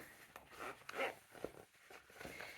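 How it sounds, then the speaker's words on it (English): A zipper on a pouch sewn from leather scraps is pulled open in short, scratchy bursts, close by and quiet, with small pauses between tugs. "Open the rest of the zipper because it's easier."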